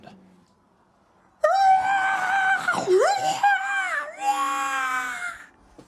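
A human voice imitates the shrieks of a Nazgul-like creature, giving loud wailing, warbling cries that rise and fall across several seconds after a quiet start.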